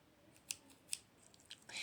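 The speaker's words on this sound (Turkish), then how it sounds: "Sonra şöyle bir makas." A pair of scissors is handled close by, giving a few quiet, crisp metallic snips and clicks spaced apart, then a soft rustle at the end. The scene is otherwise quiet, with no talking.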